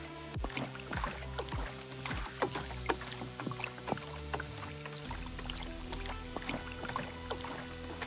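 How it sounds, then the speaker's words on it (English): Windshield washer fluid is refilled in Car Mechanic Simulator 2026, heard as a faint, close trickling pour with small splashy ticks and gurgles that continue steadily before the flow shifts lower partway through. "first I'm gonna refill the windshield"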